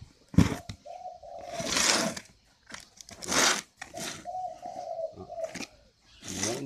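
Spotted doves at a breeding farm give low, soft cooing phrases, with several bursts of rustling and crinkling noise in between. There is no talking.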